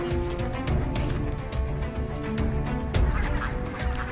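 Ducks, swans and coots gathered on the last open water of a freezing lake call together in a steady overlapping chorus of honks and nasal calls that is moderately distant and fairly quiet.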